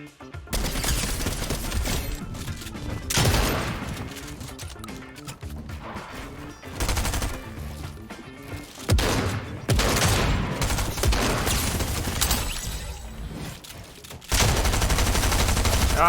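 Rapid gunfire bursts from a video game shooter, loud and dense with repeated volleys and crashing impacts across the whole stretch, no talking over it.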